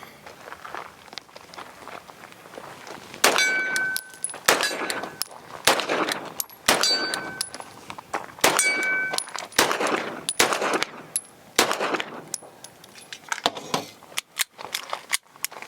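A Tisas 2011 pistol fires repeated shots at a small mini ADAP steel target, each crack followed by a ringing metallic ping, in irregular bursts outdoors.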